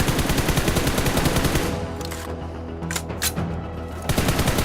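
Rapid automatic gunfire on the BGMI training ground, a loud dense burst of shots that briefly thins into separate cracks before resuming, with no voices.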